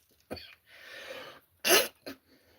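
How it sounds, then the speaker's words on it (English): A few harsh coughs and throat-clearing bursts, close and loud, separated by short pauses and a breathy stretch. "Sorry, I'm coughing."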